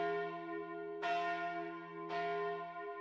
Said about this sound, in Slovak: ako znie komárňanský zvon z kostola svätého Ondreja na pamiatku veľkého zemetrasenia